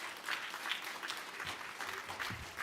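An inauguration audience gives a round of applause, a steady wash of many hands clapping, heard alone at a moderate distance for a few seconds.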